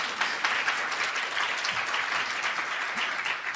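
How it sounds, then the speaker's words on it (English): Steady audience applause fills the room at a talk on women's advancement and gender parity in college and university presidencies, a dense sustained clapping heard alone with no voices over it. "I think it's worth clapping about."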